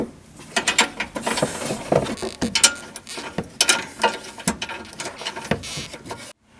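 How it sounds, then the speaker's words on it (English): A ratchet clicks rapidly and steadily up close while nuts are tightened on a factory tow hook bracket of a 4th-gen Dodge Ram Sport, in bursts of metallic ratcheting that end abruptly. "Got these two nuts on, and then we'll cinch this down"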